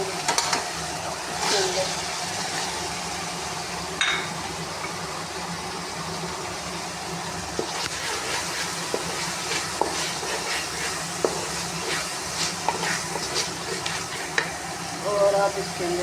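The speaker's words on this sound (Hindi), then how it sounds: "अब इसके अंदर ये मैं सब्जियाँ डालूँगी। पहले गोभी डालूँगी" Cauliflower and mixed vegetables for a pulao sizzle steadily in frying spice paste and are stirred, with someone talking over the sizzle and occasional scraping clinks.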